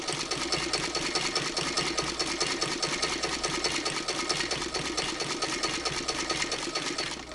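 A vintage hand-crank Singer sewing machine stitches quilt binding, its steady rapid mechanical clatter close and continuous throughout with no pauses or voices.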